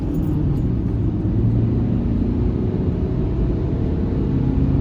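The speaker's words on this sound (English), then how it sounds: "now I'm going to move fast. First gear, second gear, third gear," A 2018 Dacia Duster with a dCi diesel engine accelerates from a standstill through first, second and third gear, giving a steady, loud low rumble of engine and road noise with no talking.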